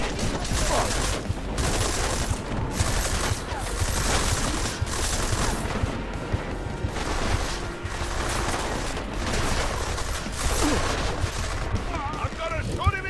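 Gunfire in the Deus Ex video game: dense, sustained bursts of shots and automatic fire fill the whole stretch, loud and close, broken by a few short gaps.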